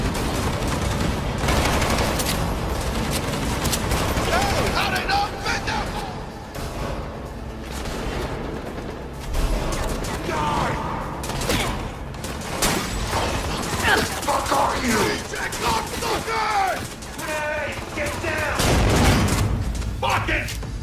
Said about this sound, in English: This allows players to bounce bullets off walls and hit enemies hiding behind cover.